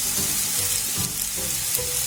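Onion and carrot sauté in a pan for a vegetable shawarma filling, giving a continuous close sizzle with faint stirring scrapes.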